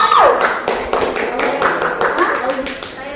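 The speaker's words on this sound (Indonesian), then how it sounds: "Oke, kasih tepuk tangan dulu teman-teman." A few classmates clap briefly in a classroom during a history lesson, scattered sharp claps that mix with a teacher talking over them.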